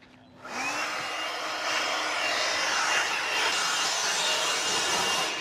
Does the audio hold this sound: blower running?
yes